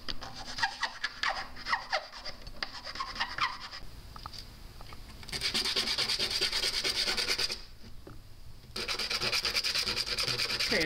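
A wooden fetish for a PVC Native American flute is shaped and sanded by hand, with close rasping and rubbing strokes in irregular bursts and short pauses between passes.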